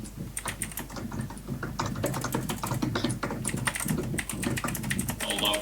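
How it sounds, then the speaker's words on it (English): Rapid, forceful typing on a computer keyboard fills the whole stretch, with irregular bursts of sharp key clacks at close range and no speech over it. "I'll allow the angry typing while I think about that."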